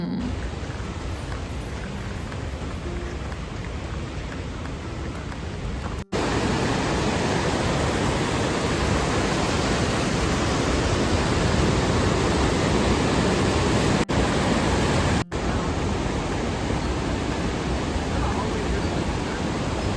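A waterfall in Sweden roaring loudly and continuously, a dense, even rush of falling water with no pauses and no voices.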